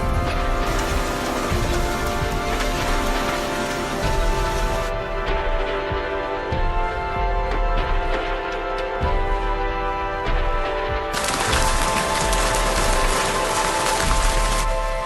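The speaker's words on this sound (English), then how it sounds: "Hailstones the size of pigeon eggs." Large hailstones the size of pigeon eggs pound down in a violent storm, a dense, continuous roar of impacts, loud and close, with no voices.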